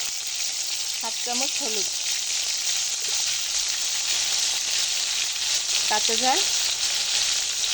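Shrimp frying in hot oil in a wok for a bitter gourd fry: a loud, steady sizzle throughout, with someone speaking briefly over it twice.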